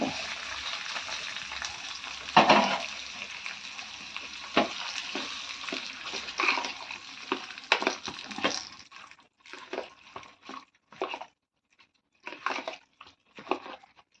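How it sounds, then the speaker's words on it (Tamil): Hot tempering is tipped into curd semiya, giving a burst of crackling sizzle that settles into quieter, intermittent spits and bubbling close by, with no voices. "தாளிப்பை அதிலே கொட்டிக்கலாம்."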